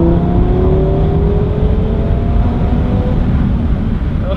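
An Audi TT RS accelerating hard, its engine roaring loudly and steadily from inside the cabin with a rising drone and strong low rumble throughout.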